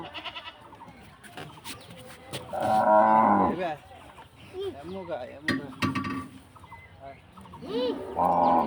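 Cattle let out a couple of loud, close moos between stretches of quieter crowd noise and scattered sounds of a busy livestock market.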